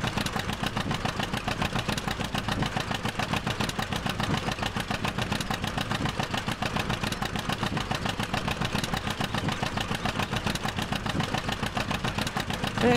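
An old John Deere 620 two-cylinder tractor engine in Farming Simulator 17 putts steadily at a low idle, a continuous even chugging held at constant loudness for the whole stretch, with no talking over it.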